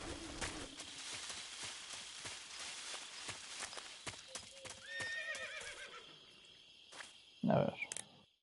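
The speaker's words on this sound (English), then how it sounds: "You just heard a horse?" A horse whinnies near the end in Metal Gear Solid 3, a loud brief burst after steady hoofbeat-like clopping and ambient game sounds, with faint bird calls in the background.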